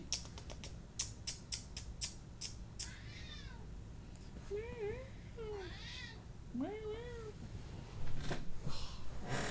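A cat meows several times with drawn-out, wavering cries, preceded by a series of sharp clicks and taps; faint background noise throughout.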